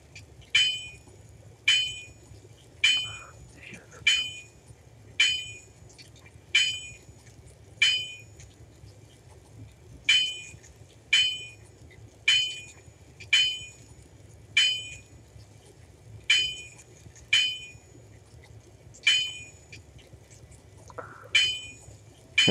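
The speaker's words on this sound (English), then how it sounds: "Hammer down." Rhythmic hammer strikes on metal at a forge in Fantasy Blacksmith ring out in bright, evenly spaced clanks, about sixteen blows with brief pauses, over a low ambient hum.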